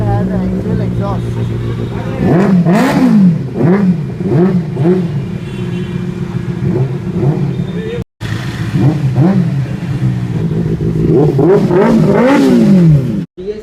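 Benelli 600i motorcycle with a modified Ixil exhaust revved repeatedly, loud and close, with quick climbing and dropping blips in two bursts separated by a brief cut, with people talking underneath.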